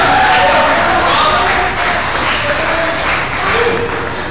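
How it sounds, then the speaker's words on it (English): Loud, dense applause from a conference audience fills the clip, steady and continuous, with a murmur of voices mixed in. "Give him a big round of applause."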